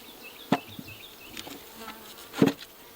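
Bees buzz steadily around an open beehive, with two louder passes of single bees close by over the softer hum of the colony.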